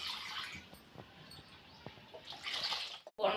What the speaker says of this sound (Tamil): குழம்புக்கு தேவையான அளவு தண்ணி ஊற்றிக்கலாம்.